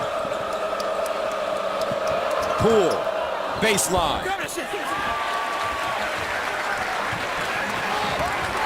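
A big crowd roars and applauds inside a basketball arena during a Michigan at Michigan State college game, loud and sustained under an announcer's play-by-play, with ball bounces and sneaker squeaks mixed in.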